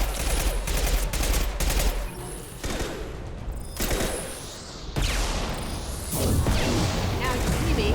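Heavy weapon fire in the sci-fi shooter Mass Effect 2, loud dense bursts of blasts and booms running through the whole stretch with brief lulls, close and harsh, with some game voice mixed in.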